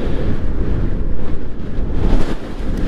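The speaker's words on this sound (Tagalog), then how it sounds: "Tsaka mahangin sobra." Strong wind buffets the microphone on a mountain highway, the Marilaque Highway near Infanta, Quezon, a steady loud roaring rumble that swells and gusts throughout, with no talking.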